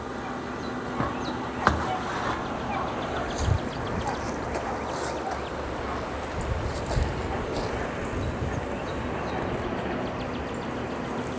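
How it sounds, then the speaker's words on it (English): Steady outdoor wind roaring and buffeting a nearby microphone, with faint thumps and rattles of loose things scattered throughout. "It's super windy out here, man. Everything's flying around."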